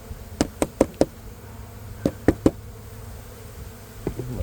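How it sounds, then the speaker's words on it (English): Yellow jackets and honeybees at a gourd beehive, heard as a series of sharp, close taps and knocks in quick clusters over a faint buzzing background. "Yellow jackets coming in, trying to take over."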